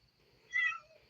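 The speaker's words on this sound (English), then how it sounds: "that's what the cat's doing" A house cat gives a single short meow that rises and falls, fairly quiet and close, against a near-silent room.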